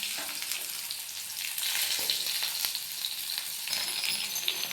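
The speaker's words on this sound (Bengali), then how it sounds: "ডাঁটাগুলো লাল লাল করে ভেজে নেব।" Vegetable stalks fry in hot oil until browned, giving a steady, bright sizzle with crackly spattering bursts and faint stirring, with no talking.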